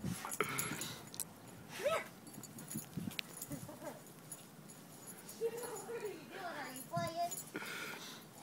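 A female dog romps and plays in deep, powdery snow, giving a few faint yips and whimpers amid scuffling movement, while someone talks to her over the activity throughout.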